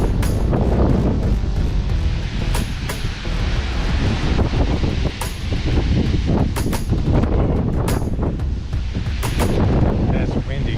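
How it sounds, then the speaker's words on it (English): Strong wind of a monsoon dust storm rolling over a small city, a loud continuous roar buffeting the microphone with sharp gust thumps throughout, with occasional voices under the blast. "That's windy."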